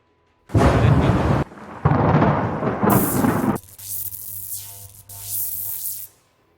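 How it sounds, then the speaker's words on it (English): Thunder and crackling electric effects from the game Torchlight Frontiers: loud broadband rumbling bursts, then a lower steady hum with brighter crackling surges, no voices. "There should be some thunder and some electricity sound."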